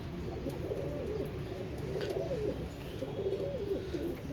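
Teddy pigeons coo continuously in low, throaty warbles, close by, with a faint background hum and occasional light clicks.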